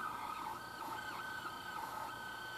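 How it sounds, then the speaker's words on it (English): Akai Terecorder Standard reel-to-reel tape recorder from 1959/1960 running in play mode, its transport giving a steady mechanical whir with a constant tonal hum and faint periodic warble, fairly quiet and without any voice. "famous Akai transport sound that many of you out there who have Akai recorders with this transport probably recognize"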